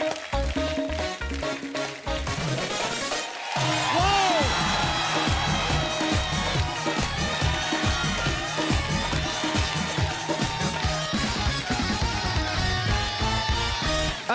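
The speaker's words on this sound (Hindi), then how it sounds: "एक बार अर्चना जी के लिए जोरदार तालियां हो जाए" A studio audience at a Hindi comedy talk show bursts into loud, sustained applause and cheering, a dense crowd roar with whoops that lasts throughout.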